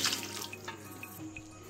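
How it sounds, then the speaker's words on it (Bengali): Rinse water from a mixer jar being poured into chicken in a Bengali chicken korma pot, a soft running, splashing pour with a few small drips, close and steady, with no talk. "আর দেব মিক্সিং জার ধুয়ে রাখা জল"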